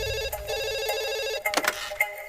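A telephone rings in a Hindi film scene, a steady trilling bell tone for over a second, then breaks off into a few clattering knocks as the receiver is picked up.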